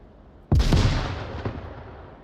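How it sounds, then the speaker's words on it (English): A grenade blast in the multiplayer VR shooter Onward bursts in loudly after a brief quiet, then rolls off in a decaying rumble with a smaller second thump near the end; no voices. "Grenades coming in towards Mobstar"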